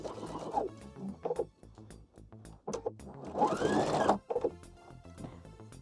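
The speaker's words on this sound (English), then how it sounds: "we're only sewing to the fold in the pocket" A sewing machine stitching the front side of a jeans pocket, running in short bursts with pauses between them, then one longer rattling run, close and moderately loud.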